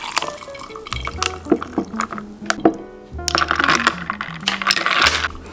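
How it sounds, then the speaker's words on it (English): A drink is poured into two glasses filled with ice, giving a continuous splashing, fizzy fill with bright clinks and cracks of ice cubes, loud and close, over about five seconds. "I'm gonna pour this into 2 glasses with ice."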